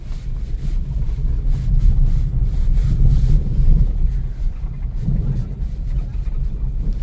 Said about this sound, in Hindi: मैं आपको एहसास कर रहा हूँ कि कितनी हवा चल रही है।